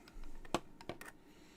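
Computer keyboard typed one-handed: a few close, distinct key taps in an uneven rhythm, one louder strike near the middle, then quiet.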